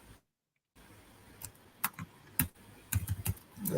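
Typing on a computer keyboard while coding, with scattered sharp key clicks in short irregular bursts and a brief silent gap, close and fairly quiet.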